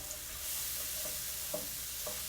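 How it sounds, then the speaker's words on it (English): Cream goes into a hot pan of chicken thighs for a mushroom garlic sauce, raising a soft, steady sizzle with a few faint stirring clinks, quiet and without talk. "And then we're gonna add our cream."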